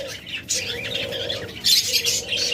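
A classic and albino lovebird pair chirp in bursts, bright high calls that swell louder toward the end, close by over a low background hum.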